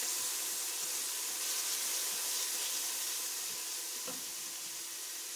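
Garlic sizzles in a hot pan, a steady, soft hiss of frying with a faint clink partway through, fairly quiet and with no talking.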